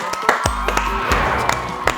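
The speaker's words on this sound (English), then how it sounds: "Round of applause for Ruby, everybody." A burst of crowd cheering and clapping, loud and dense, with shouts and whoops rising over the noise.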